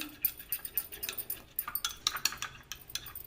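A spoon works homemade night cream around a bowl, producing quick, light clinks and scraping taps in an uneven rhythm, quiet and close with no voices.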